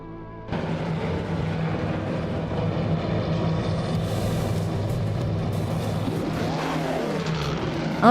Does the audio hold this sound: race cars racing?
yes